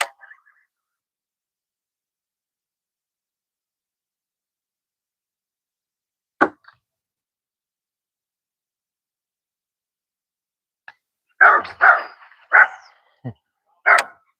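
A dog gives a few short, sharp barks and yips outdoors near a fishing spot, scattered in brief bursts after long quiet stretches, fairly close and loud.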